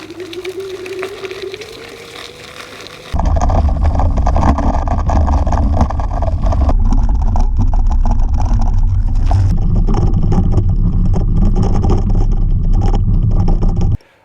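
An electric scooter rides over a shingly off-road path, giving a loud, steady rumble and gravelly crunch from start to finish, with a brief quieter stretch before it sets off.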